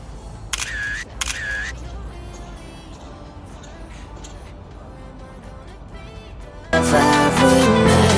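Two quick shutter clicks from a camera taking a photo aboard the Dakar express train, each a short bright snap about half a second apart, followed by quiet carriage hum and then a loud burst of music.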